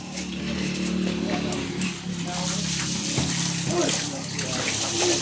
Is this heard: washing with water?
yes